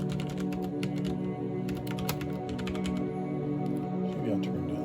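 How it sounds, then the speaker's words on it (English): Clacking keystrokes on a CM Storm XT mechanical keyboard, a close, continuous irregular patter of key presses with background music underneath. "Let's just type for a while. You guys can hear the typing sound."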